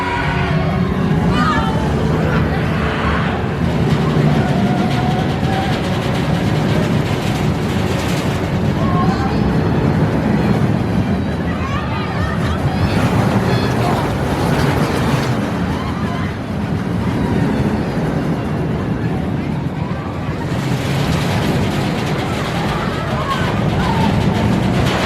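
Continuous roaring rush of wind and rattling wheels from a Vekoma Boomerang roller coaster ride at Walibi Holland, with voices and shouts mixed in, loud and close throughout.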